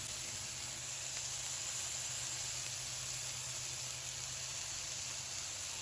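A burger patty sizzles under a press on a hot cooking surface, giving a steady, faint, even hiss with no pauses and no voices.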